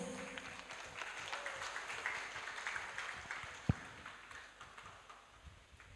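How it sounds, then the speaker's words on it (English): Audience applause at a multidiscipline academic conference hall, a steady spread of clapping lasting several seconds with a single sharp knock partway through, moderately faint and without talk. "thank you for your wondrous topic and give applause to Assist Prof. Muhammad Wafil Ahdi."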